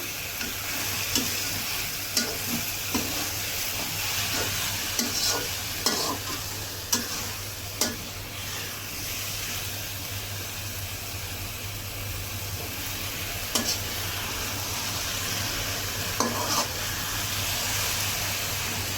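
Kalmi shak (water spinach) frying in a pan, a steady close sizzle and hiss running throughout with occasional sharp scrapes and taps of stirring, no voices present.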